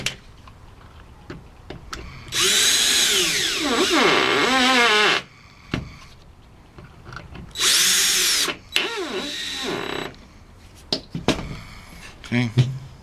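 A power drill whirs in two long bursts, winding up and down in pitch as it backs screws out of a belt sander under repair, with clicks and tool handling between runs.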